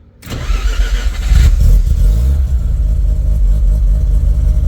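A turbocharged Mazda RX-7 rotary engine cranks and catches on its first startup after installation, rising quickly to a loud, steady idle with a burbling exhaust, close by and with no talk.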